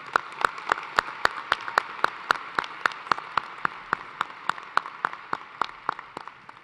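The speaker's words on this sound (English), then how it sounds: "join me in another round of applause for our 5 senior scholars" Applause for senior scholars at a university engineering college commencement, made of evenly spaced, sharp claps at a steady rhythm, moderately close and fairly quiet, with no talk over it.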